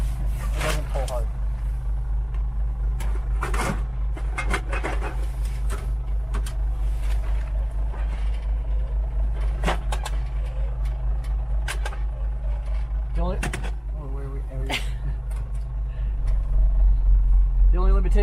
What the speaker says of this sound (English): usually on the way back I put it in low gear or low range